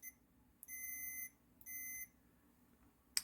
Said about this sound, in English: I've got this multimeter set to continuity check, and what that means is when these things have a short circuit, like when I touch them together